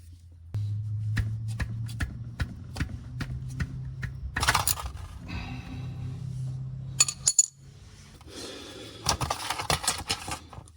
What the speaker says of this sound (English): I've got my 17 millimeter on here, and I'm just going to loosen that bolt up, and then I'm going to go ahead and remove it